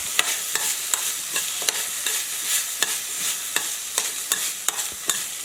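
Chicken green gravy ingredients fry on a medium flame, a steady sizzle close by broken by repeated sharp scrapes of stirring, with no voices.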